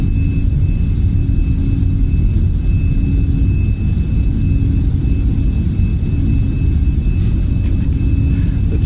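Boeing 747-8 engines at takeoff thrust in Microsoft Flight Simulator 2020 make a loud, deep, constant roar and rumble that fills the whole stretch without letting up.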